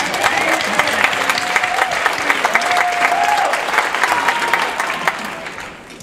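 Sustained applause from a banquet audience, dense and steady for about six seconds before tapering off, with a faint tonal whistle or squeal drifting through the middle.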